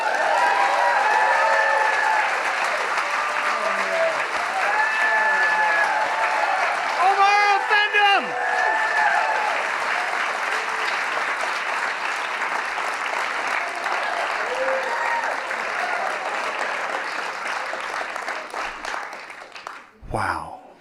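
Audience applause after a live rap performance, loud dense clapping that swells near the start and holds steady before trailing off into a sudden stop, with voices calling out over it.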